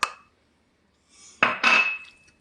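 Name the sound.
stirring grated cheese into risotto in a pan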